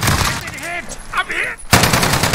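Bursts of gunfire from a video game, loud and dense at the start, then a loud sustained burst near the end, with a voice speaking in between.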